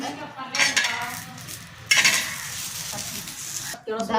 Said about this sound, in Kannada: ಈ ಸಾರು ಈಗ್ರಿ ಮೆಣಸಿನ್ಕಾಯಿ ಹುರಾಕತ್ತೀನಿ ರೀ.